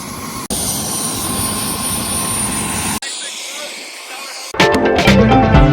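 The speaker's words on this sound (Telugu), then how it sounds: "ఇది హెలికాప్టరే. ఇది హెలికాప్టర్." Helicopter rotor and engine noise during a New York City visit, a steady loud drone for several seconds that breaks off abruptly, then returns mixed with other noise.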